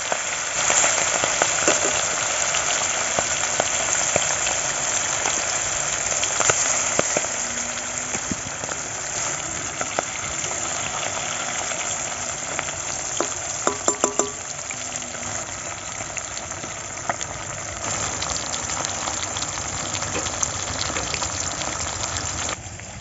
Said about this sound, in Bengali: এই আর মাছগুলো কিন্তু ভীষণ ফুটে তেলে দিলে। সাবধানে ভাজতে হবে।